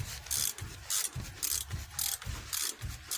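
Ratchet wrench working inverted head bolts loose on a 2015 Cadillac ATS 2.5 rear differential: rhythmic ratcheting clicks in repeated bursts about every half second, close and fairly loud, with no talk.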